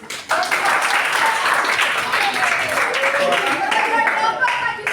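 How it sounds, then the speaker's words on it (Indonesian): Students in a classroom clap together, a brief burst of steady applause lasting several seconds with voices mingled in. "Oke, tepuk tangan."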